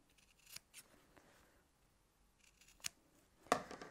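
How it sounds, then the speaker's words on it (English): Scissors snip off the corners of a sewn fabric bookmark, with a few separate quiet cuts spread across the moment and a sharper, louder snip near the end, in an otherwise quiet room. "So you're going to snip off your corners, being careful not to cut through your stitch line."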